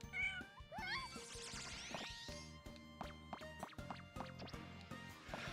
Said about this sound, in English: Oh my god, he can meow.